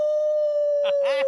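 A man on a podcast imitates a wolf howl with his voice: two short rising, wavering vocal howls near the end, over a steady electronic tone.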